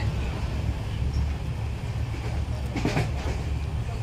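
Steady rumbling drone from inside a moving Matsyagandha Express passenger train, with continuous low rattling and a brief brighter clatter near the end, no speech.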